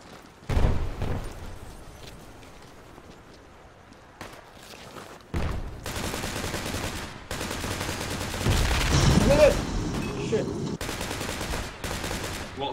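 Bursts of rifle and machine-gun fire crackle in Battlefield 2 Project Reality on Bijar Canyons, separated by pauses, with a steady engine drone underneath and people talking over the shooting.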